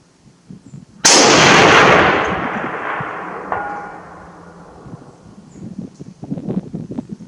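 A single loud rifle shot from a Swedish M41b sniper rifle fitted with an Ajack scope cracks out outdoors, followed by a long rolling echo that fades over several seconds amid light wind and rustling.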